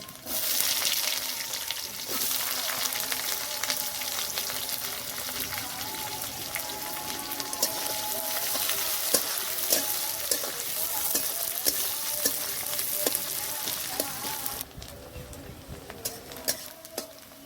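Crushed garlic and chopped onion frying in a pan, a loud rain-like crackling sizzle with scattered pops and stirring scrapes that runs steadily, then thins out near the end.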